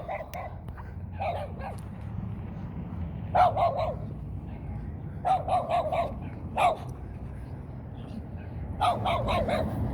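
A small young dog, just past the puppy stage, barks in quick clusters of high yips, fairly close and repeated several times over a steady low background rumble.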